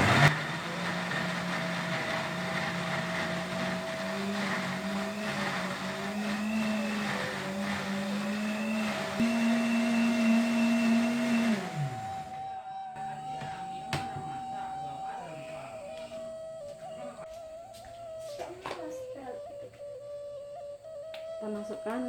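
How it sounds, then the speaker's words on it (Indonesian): A kitchen blender grinds shallots and garlic with a loud, steady motor whine that climbs a little in pitch, then cuts off. Light clinks and handling noises follow in the quieter stretch. "Blender ya teman-teman."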